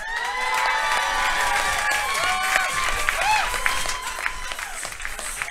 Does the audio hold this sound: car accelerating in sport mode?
no